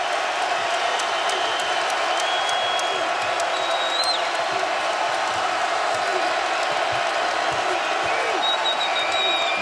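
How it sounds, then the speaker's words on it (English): Basketball arena crowd at Tennessee roaring continuously during a close game against North Carolina, with whistles, whoops and squeaking shoes over the steady cheer. "Well, that crowd is back in it."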